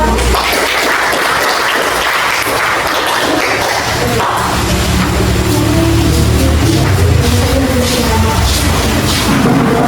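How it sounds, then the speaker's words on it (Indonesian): Classroom audience applauding a student group after their research presentation, a steady broadband clatter of clapping filling the whole stretch, with faint murmuring underneath. "Tepuk tangan untuk kelompok 1."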